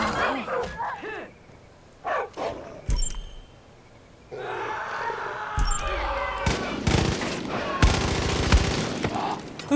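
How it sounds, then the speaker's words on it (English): Gunfire in Far Cry 5, bursts of shots over a noisy fight with a dog barking and a voice speaking at times, the firing growing dense and loud toward the end. "Who's shooting me with a gun here?"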